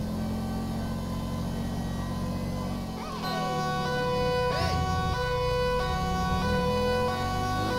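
A police car siren in a video game wails and rises in pitch, then shifts to a fast warbling yelp over a steady low engine hum, with a voice speaking faintly.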